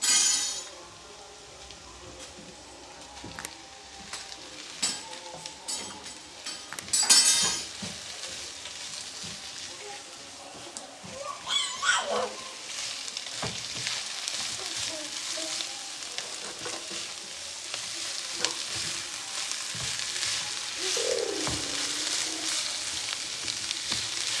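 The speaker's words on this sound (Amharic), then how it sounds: "የቀቀልናትን ጥቅል ጎመኗንም አንድ ላይ እንከታትና እንጠብሳታለን ማለት ነው።" Boiled cabbage fries in a pan for a fasting pizza, with a continuous sizzle and occasional scraping stirs and clatters near the start.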